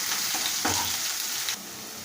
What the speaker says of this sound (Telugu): పేస్ట్ తీసుకున్నాం కదండి, అది వేసేసి మంచిగా ఫ్రై చేసుకోవాలి